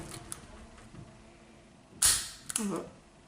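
Dry-fire trigger snap of a VZOR VZ 70 pistol in 7.65 mm, a single sharp metallic click followed by a softer mechanical clack moments later, close and alone over faint room noise.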